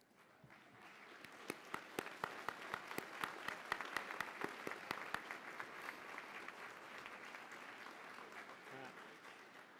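Students at a college commencement ceremony applaud their faculty, a broad wash of clapping with a few sharp, rhythmic claps standing out, heard fairly faint and distant.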